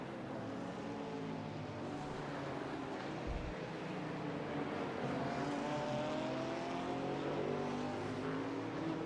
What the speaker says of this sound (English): see how the car kind of stalls just for a little bit until right at the end it gets top speed